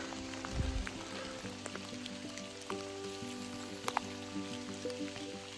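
Rain falls steadily in a downpour during a hike near Fontana Dam, a continuous soft hiss with scattered drop ticks over a low hum, heard at a faint level with no voices.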